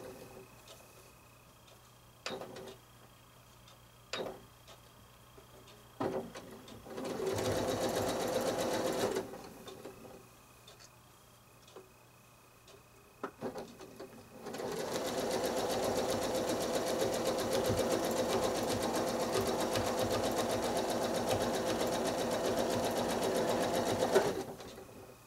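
Sewing machine quilting zigzag lines on a beginner Drunkard's Path quilt, running in two bursts: a short stretch of stitching, a pause with light handling clicks, then a long steady hum of rapid stitching.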